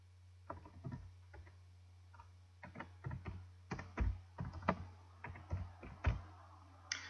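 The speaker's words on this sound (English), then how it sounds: "So I'm going to click on Authorize." Computer mouse clicking at a desk during a software walkthrough: a rapid, irregular series of sharp, close plastic clicks, some in quick pairs, over a steady low electrical hum, with no talking.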